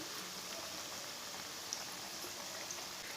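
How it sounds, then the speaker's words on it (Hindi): Pakoras sizzle steadily in hot oil over medium heat, a fine continuous crackle and hiss heard alone at moderate volume. "पकोड़े को 2 मिनट के लिए पकने देंगे।"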